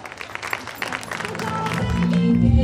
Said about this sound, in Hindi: आपकी तालियों की गूंज में तशरीफ़ लाते हैं